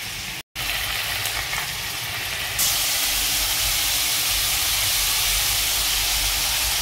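Salted pointed gourd (potol) pieces sizzling in hot oil in a frying pan: a loud, steady frying hiss that jumps up partway through and holds at a strong level, with no talking.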